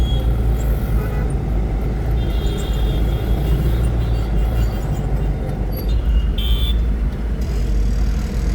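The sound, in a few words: road traffic at EBB circle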